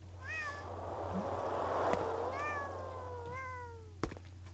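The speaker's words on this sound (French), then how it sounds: "Vous avez entendu des chats, donc vous plaignez pas." Cats meow in a video game, Thirty Flights of Loving, giving three clear drawn-out meows spaced across a few seconds over a low hum, with a sharp click near the end.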